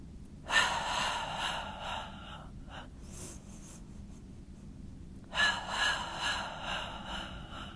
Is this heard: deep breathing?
yes